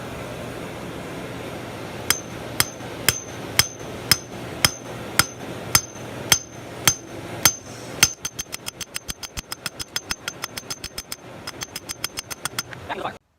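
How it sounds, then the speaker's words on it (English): Sledgehammer striking red-hot steel on an anvil while forging a knife: a dozen loud, ringing blows spaced about half a second apart, then a quicker run of lighter, rapid strikes. "So I got my sledgehammer here,"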